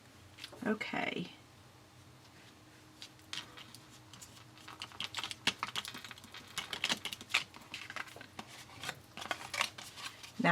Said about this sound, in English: Now I'm going to take my scissors and trim that extra.